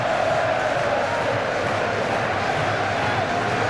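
Stadium crowd at Lens during the 1998 World Cup match between England and Colombia, a dense steady roar of thousands of fans filling the ground at constant loudness, with no separate cheers standing out.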